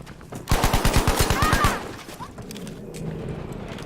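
A rapid automatic burst from a new gun in Battlefield V, about a dozen evenly spaced close shots lasting over a second, then quieter game ambience.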